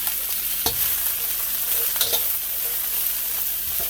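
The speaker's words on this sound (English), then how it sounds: "So I'm going to start stir frying my broccoli." Broccoli stir-fries in hot olive oil with a steady, loud sizzle throughout, broken by a few brief scraping stirs of the pan.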